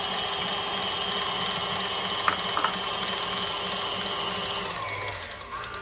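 A small electric kitchen grinder grinds lemon for a Christmas chocolate yule log cake, a steady mechanical whirring drone that runs on unbroken and winds down near the end.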